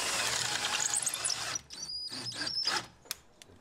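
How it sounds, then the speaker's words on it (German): Power tool driving long screws deep into masonry to anchor a new window frame during a renovation; a busy whirring burst for the first half, then a few shorter drill spurts and squeaks, fairly quiet and close. "Darum wird das Fenster nun tief mit langen Schrauben im Mauerwerk verankert."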